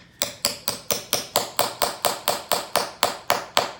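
A hammer taps steadily on a leather shoe heel while pegging it, about fifteen sharp, evenly paced blows close by with no talking.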